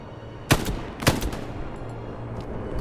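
Gunfire in the World War II shooter game Hell Let Loose, heard as two sharp shots about half a second apart, followed by fainter echoing reports and background rumble.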